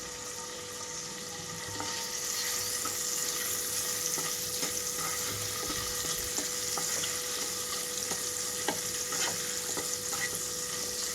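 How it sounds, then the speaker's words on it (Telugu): Paneer cubes fry in a pan, a steady bright sizzle running throughout with occasional stirring clicks and scrapes, close and moderately loud with no talking. "ఎక్కువసేపు కాకుండా 1 నిమిషం పాటు దోరగా ఇలా వేయించుకున్న తర్వాత వీటిని అయితే ప్లేట్లోకి తీసేసుకోవాలి"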